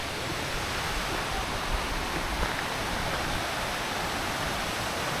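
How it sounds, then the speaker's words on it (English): Gullfoss Waterfall in Iceland roars as a steady, dense broadband rush of falling water, loud and unbroken throughout with no voices. "Here we are at the Gullfoss Waterfall."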